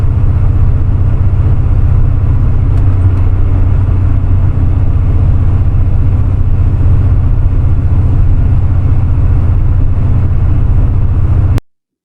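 A C4 Corvette with Crossfire injection on a road test, a steady low engine drone and road roar from inside the car, constant and loud with no talking until it cuts off abruptly at the end.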